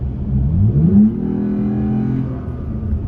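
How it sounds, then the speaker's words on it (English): A Toyota Tacoma's exhaust swells with a short rev as the gas is pressed, then holds a low, throaty drone close by. "my feathering the pedal a little so I can hear the exhaust"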